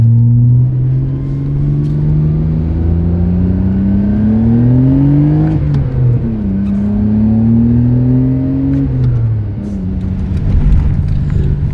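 A Nissan Skyline GTR drives along with a loud, steady engine drone that rises in pitch through the gears, dips with a shift partway through, then climbs again and settles near the end.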